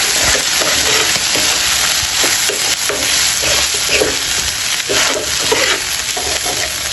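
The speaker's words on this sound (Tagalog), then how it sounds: "Ngayon ito yung haluin natin mga kasarap" Tuna sisig with century tuna broth is stirred in a hot pan, a rhythmic scraping of the spoon repeating over a constant bright sizzle, close and fairly loud.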